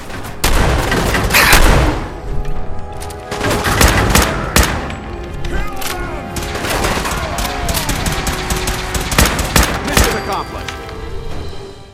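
Shotgun blasts and other gunfire in Fallout 4 during a fight at Fort Strong, a dense run of loud bangs and booms with repeated sharp reports and a busy, chaotic battle din throughout.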